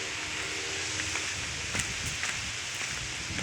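Strong storm wind roars steadily, a dense rushing noise with scattered rustling and flapping gusts from a kite, no voices.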